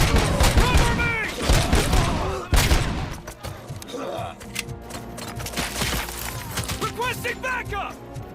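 Gunfire rattles through a firefight in Robocop Rogue City, a first-person shooter, with dense overlapping bursts and shots up close while in-game voices shout between volleys.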